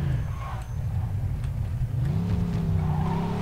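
A car drives and skids in Mafia 2, engine roaring loudly throughout with scraping tire slides early on and a rising rev as it accelerates near the end.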